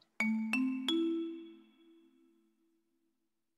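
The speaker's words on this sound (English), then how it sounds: "Marimba." A marimba sound from the Claviatura keyboard app for Mac plays three quick ascending notes, each struck tone ringing briefly before decaying into silence.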